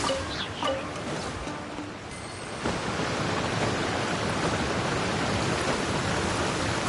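Steady rain falls in the Genshin Impact game world, a dense hissing patter that starts softer and swells into a continuous, fuller downpour with no voices over it.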